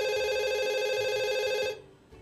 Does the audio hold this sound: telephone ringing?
yes